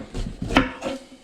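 Knife chopping capsicum on a board for scrambled eggs: a few close, crisp thuds spaced apart, one sharp knock standing out in the middle.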